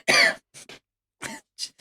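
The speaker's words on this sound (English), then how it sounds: "It's making me cough now." Several short, sharp coughs in quick succession, close up, with brief silences between them.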